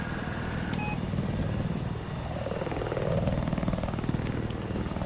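A helicopter in Battlefield 4 gameplay gives a continuous loud rotor chop and engine drone that swells and passes by, mixed with other in-game noise.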